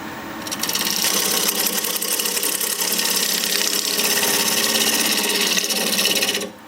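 A wood lathe spins at 1,000 RPM while a tool cuts a live edge bowl from a log, giving a loud, steady scraping hiss that runs unbroken for several seconds before stopping abruptly.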